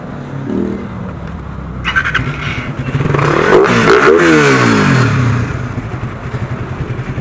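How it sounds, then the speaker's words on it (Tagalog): A cold motorcycle engine struggles to start, sputtering and clattering before surging into a rough, rising rev. It sounds loud and close, with scraping noises mixed in. "Ayaw pa mag-start ng motor ko, nalamigan ah."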